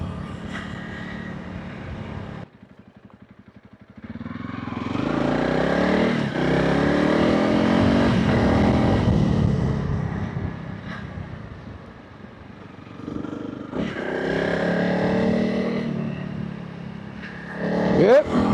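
A 2025 Honda CRF300 Rally motorcycle rides up a lane, its engine revving and rising in pitch through gear changes, close and fairly loud, with a rider talking over it at times.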